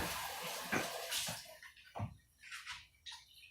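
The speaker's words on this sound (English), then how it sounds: "I think I'm going to add a little more water." Water pours and splashes into a pot of beef pot roast and potatoes in a couple of short bursts, with gurgling and light clinks, close by and fairly quiet.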